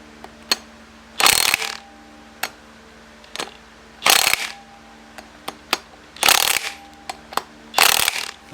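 Pneumatic impact gun driving flywheel bolts on a project car, four loud rattling bursts of about half a second each spaced a few seconds apart, with sharp metallic clicks and clinks of tools and parts between them.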